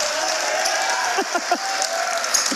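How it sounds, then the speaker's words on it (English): Crowd applause in a college gym as a men's basketball player comes off the bench, Heidelberg at Ohio Northern; steady clapping fills the clip under arena noise, with a few brief louder bursts. "He got a great round of applause off the bench."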